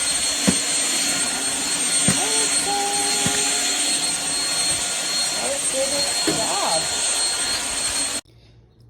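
A Shark Rocket Ultra-Light corded bagless vacuum for carpet and hard floor runs with a loud, steady, high-pitched motor whine and airy roar, close by, then cuts off abruptly near the end.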